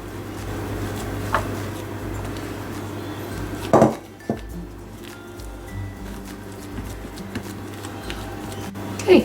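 Stiff date and walnut cake batter, egg free, being scraped from a bowl into a baking pan, with clinking and scraping of a utensil against metal and a couple of sharper knocks near the middle and end.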